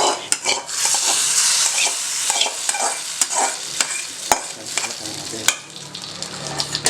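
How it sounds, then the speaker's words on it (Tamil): A spoonful of hot tempering hits simmering tiffin idli sambar, setting off a loud, steady sizzle with rapid spoon scrapes and clinks against the pot as it is stirred in. "இப்போ தாளித்ததை அதில் விட்டுருவோம்."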